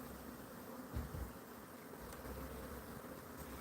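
A live swarm of honeybees drones in a steady, continuous buzz, close and fairly loud, with a few soft handling knocks early on and no talking.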